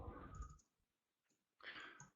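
Mouse clicks in the StrategyQuant trading software, with a few short, light clicks heard alone at close range between quieter gaps.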